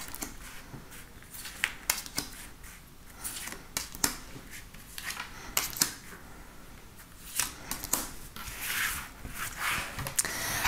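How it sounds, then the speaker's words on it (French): Tarot cards are shuffled and drawn for a daily reading, soft riffling and sharp card snaps recurring irregularly at close range, with rubbing and sliding sounds between them and no talk. "on va prendre 5 cartes"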